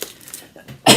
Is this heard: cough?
yes